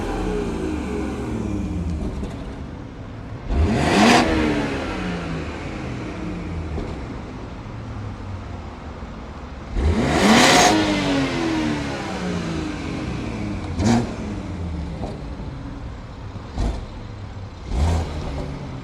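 A wrecked BMW 540i with a turbocharged engine idles and then revs hard twice, followed by two shorter blips, with turbo and wastegate whoosh rising and falling over the steady idle drone.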